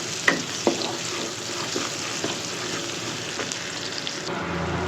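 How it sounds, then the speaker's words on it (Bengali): Chopped onion fries in hot oil with a steady close sizzle, broken by a few clicks and light scrapes of a spoon, heard alone. "পেঁয়াজটা একটু নরম হতে থাক"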